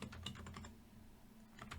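A computer keyboard clacks under quick fingers: a close, quiet cluster of rapid key taps, a short pause, then a few more strokes, with no voices.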